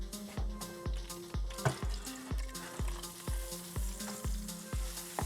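Thick spicy chicken sizzles in a hot pan, a steady fry broken by a regular series of sharp clinks and scrapes roughly every half second as the meat is pressed and stirred, close and fairly quiet.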